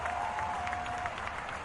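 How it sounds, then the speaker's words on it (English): Clapping from a crowd at a Baltimore Orioles versus Toronto Blue Jays baseball game, a quiet, steady patter of applause heard at a distance for under two seconds. "I got to cut off all this clapping and stuff."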